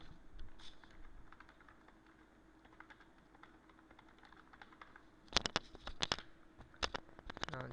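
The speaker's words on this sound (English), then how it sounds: "I'll type in the content" Computer keyboard typing while entering page content in a website editor: soft, scattered keystrokes at first, then louder, rapid clusters of clicking keys near the microphone in the second half.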